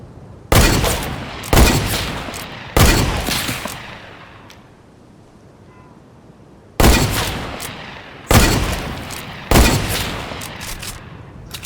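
Scoped sniper rifle fire in the Fortnite video game, six loud sharp shots in two groups of three with a pause between, each shot followed by a short decaying tail.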